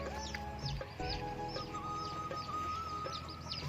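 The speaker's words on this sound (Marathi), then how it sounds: "आता दहा बारा कोंबडे आहेत इकडे फिरत आहेत" Roosters and chickens on a poultry farm cluck in short, scattered calls, fairly close, over a steady farmyard background with no voices.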